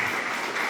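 A church congregation claps in praise to the Lord, a brief burst of dense, continuous applause with no speech.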